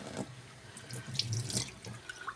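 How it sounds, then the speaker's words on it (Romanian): Water runs from a kitchen tap into a sink while a sauce is being made, a soft splashing trickle with a few drips, quiet and close with no talk. "eu o să pun foarte puțină apă"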